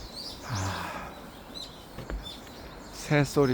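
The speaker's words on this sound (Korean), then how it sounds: "새들 소리가죠." Birds chirp and call outdoors at early morning dawn, faint and intermittent, with short tweets scattered through and a brighter burst of calls near the end, alongside quiet background talk.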